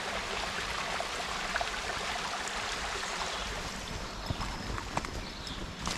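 Rushing water from a stream swollen by heavy rain, beside a walking route, fills the scene with a steady broadband roar, occasional small splashes and knocks poking through.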